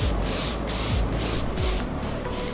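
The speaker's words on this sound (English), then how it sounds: "So I'm not going to spray the whole wheel with the base, just over the repairs." A spray gun lays base coat over repaired patches on a car alloy wheel, giving loud close bursts of hissing spray in short pulses separated by brief gaps.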